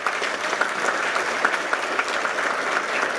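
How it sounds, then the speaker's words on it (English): Hearty round of applause from an awards ceremony audience honoring awardees, steady dense clapping throughout at moderate loudness, with no speech over it. "I'd like to give a hearty round of applause to our awardees today."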